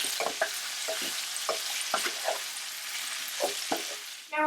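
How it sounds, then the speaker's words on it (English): Shiitake mushrooms and pork belly fry in hot oil, a steady soft sizzle broken by repeated scraping stirs in an irregular rhythm, close and alone. "now we're going to add in the shiitake mushrooms and just cook it a little in the oil"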